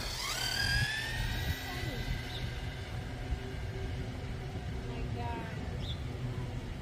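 Kyosho MK2 Rally RC car racing past at full throttle off-road, a whining electric motor rising and falling in pitch as it speeds near then away, heard with background noise and some voices.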